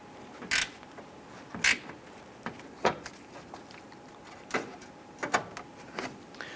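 A wrench works a 10mm bolt on the front bumper area of a 2008-2013 Nissan Rogue, giving a series of sharp, close metallic clicks and ratchet taps at irregular intervals against a quiet background, with no talking.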